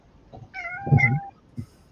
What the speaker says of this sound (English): I'm gonna have to let this cat out before it gets upset.